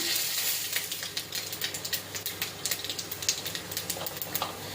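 Panch phoron spice mix, dried red chillies and bay leaves hit hot oil for a fish-head and cabbage ghonto, giving a steady close sizzle with scattered crackles and pops throughout, no talking.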